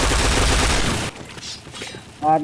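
Loud, dense automatic gunfire in the shooter game Point Blank for about a second, then quieter scattered game sounds and a brief tonal in-game effect near the end.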